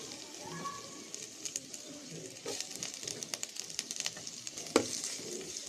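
Green chilies and onion frying in oil in a wok, with a quiet, steady sizzle and scattered stirring scrapes and light clicks, including one sharper knock near the end.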